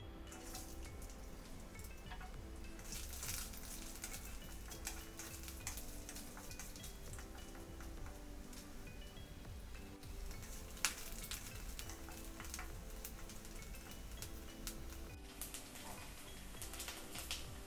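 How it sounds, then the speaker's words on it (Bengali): Grated coconut fries in oil in a wok with a steady crackling sizzle and scattered stirring clatters, faint but constant, with faint bird calls in the background and no speech. "এবার নারকেলটাকে একটু ভেজে নেব"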